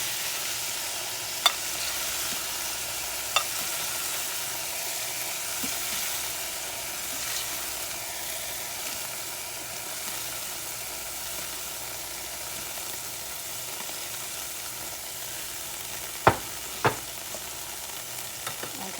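Beef frying in an iron skillet, a steady broadband sizzle running throughout with a few sharp clicks of utensils against the pan, no voices.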